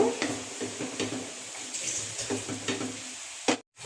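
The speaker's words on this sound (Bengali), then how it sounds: "অল্প কিছুটা ভাজা ভাজা করে নেব।" A filling of mashed potato and grated paneer fries in a pan with a soft, steady sizzle close by, broken by regular scraping stirs that end in a short silence.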